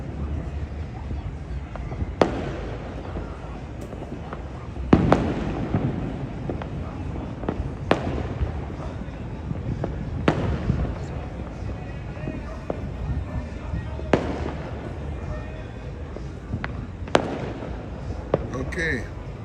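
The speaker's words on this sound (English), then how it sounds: "It's just people setting off their own fireworks." Fireworks set off by people in Trinidad on New Year's Eve, sharp bangs and pops at irregular intervals of a few seconds, mid-distance, over steady outdoor background noise while someone talks nearby.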